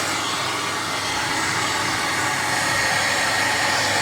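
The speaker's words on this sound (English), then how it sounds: "I'm going to switch on the hairdryer" A hairdryer, used to shrink new wrap onto a vape battery, runs steadily throughout with a loud, constant airy roar close by and no talking.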